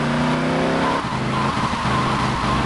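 A car engine revs loudly while tires squeal and skid continuously in the video game GTA Vice City, the racing whine shifting in pitch as the car slides.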